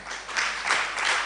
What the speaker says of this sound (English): let's clap our hands once again for Prof.